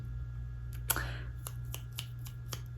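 Several crisp finger snaps, one sharp and loud followed by a quicker run of lighter snaps, against a steady low hum.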